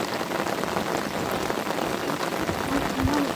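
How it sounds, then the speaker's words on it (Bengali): Heavy rain pours steadily during a monsoon fishing outing, a dense continuous hiss of drops striking surfaces that stays loud throughout, with a brief low thump near the end. "এখন হুড়মড়িয়ে বৃষ্টি হচ্ছিল"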